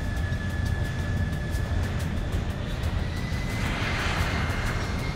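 An airplane taxis toward the runway with a steady, loud engine drone and a thin high whine held throughout, and a slight swell of rushing noise toward the end.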